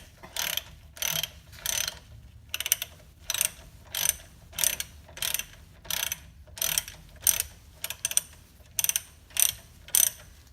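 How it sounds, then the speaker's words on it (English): A large wrench ratchets a big bolt on a brake rotor assembly, producing about fifteen quick clicking bursts in a steady back-and-forth rhythm, close and clear with short pauses between strokes. "So we're gonna use a bigger wrench here. Get the torque we need."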